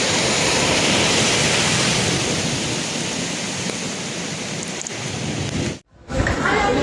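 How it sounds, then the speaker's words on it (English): Heavy rain pouring during a violent thunderstorm in Slovakia, a dense, loud, steady roar of downpour that fills the whole stretch and drops out briefly near the end. "je tu nejaký dáždik"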